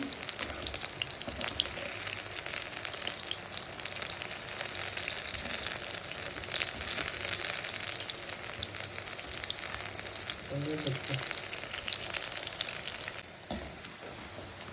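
Mushroom pakoras deep-frying in hot oil give a steady, dense sizzle and crackle that runs unbroken throughout, close and fairly loud, with a brief low clatter near the end and no speech.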